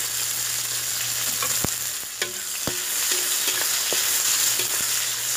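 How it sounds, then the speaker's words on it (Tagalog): Onions and atchara frying in a wok over a wood-fired dirty kitchen, a steady close sizzle with a few sharp stirring clinks and scrapes scattered through it. "Lagay na natin yung sibuyas."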